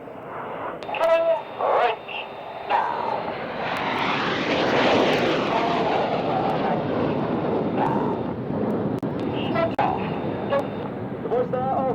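Display team jets flying high overhead at RAF Waddington Airshow, a broad swelling roar that builds from the middle and fades gradually, with crowd murmur and brief talk around it.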